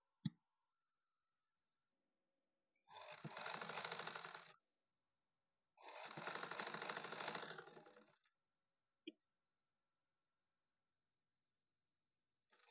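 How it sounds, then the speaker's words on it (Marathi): A sewing machine stitches the front of a blouse in two bursts of rapid clattering lasting about two seconds each, with faint isolated clicks before and after in an otherwise quiet room. "तर मी फ्रंटला पूर्ण अशी शिलाई करून घेत आहे"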